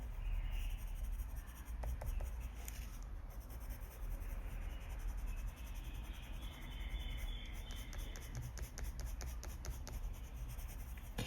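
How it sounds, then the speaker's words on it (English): Polychromos colored pencil laid down on paper in flicking and circular strokes while coloring mulberry leaves, a soft continuous scratchy writing sound, close and steady, with no talk. "we're just layering the pencil using flicking motions or circular motions"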